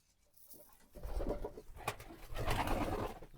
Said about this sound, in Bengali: দেখেন কীভাবে খাবার খাইতো নামছে কবুতরগুলো